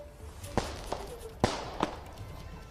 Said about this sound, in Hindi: ये जोरदार यहाँ पर आतिशबाजी देखने को मिल रही है